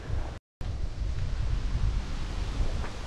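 Wind gusting on a hiking trail in the Blue Mountains near Katoomba, a loud buffeting roar against the microphone that cuts out once briefly and then goes on steadily.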